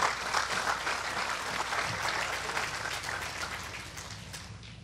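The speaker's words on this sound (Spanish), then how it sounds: "¿Cuánto dan palmas al Dios de la gloria?" Applause from a church congregation clapping in praise during a Spanish-language sermon, a dense steady patter of many hands that tapers slightly toward the end, with no voices over it.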